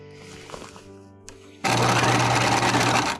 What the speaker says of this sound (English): now we're gonna go to the machine and we're gonna stitch all the way around